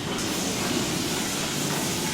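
Steam brake on a J94 steam locomotive in Train Simulator 2016, a broad continuous hiss over low rail rumble, loud and steady from start to finish.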